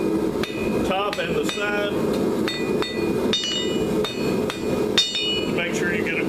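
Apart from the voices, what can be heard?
hammering a hot steel drive hook on an anvil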